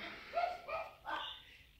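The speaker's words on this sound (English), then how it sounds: "I knew that dog was going to go by and they were going to go ballistic" Dogs bark at another dog passing by, three short faint yelping barks spaced apart, heard at a distance with no talking.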